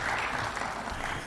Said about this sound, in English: We can clap for him as he's coming.